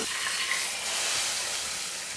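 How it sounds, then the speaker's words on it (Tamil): Steady, loud sizzling and crackling hiss throughout as hot oil tempering is poured into sambar in a pot, close by. "இப்போ இந்த தாளிப்பை சாம்பாரில் வந்து சேர்த்துடலாம்"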